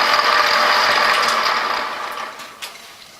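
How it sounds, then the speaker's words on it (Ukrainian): Mechanical whirring and gear noise from a 16U04P lathe as the tumbler gear is engaged, steady then fading, with a small clunk near the end, close and without talk. "Зараз я включу трензель."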